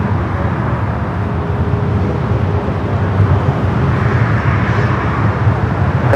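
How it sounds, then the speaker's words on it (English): A JetBlue Airbus A321 arriving from Fort Lauderdale lands on the north side of LAX, producing a steady, loud broadband jet roar that holds evenly throughout with no voices. "Next arrival here on the north side, JetBlue Flight 2801, coming in from Fort Lauderdale."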